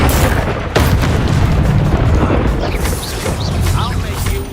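Explosive spells such as Confringo and Bombarda go off in the Hogwarts Legacy game with dense, heavy booms and roaring blasts under a shouting voice.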